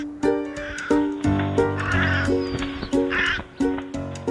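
Crows caw repeatedly in a series of harsh, loud calls at an irregular rhythm, several overlapping, close by.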